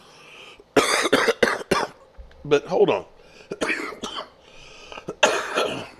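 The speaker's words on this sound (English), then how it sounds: "Sorry about this cough." A man coughs and clears his throat in several harsh, close bursts, with a few brief spoken words in between.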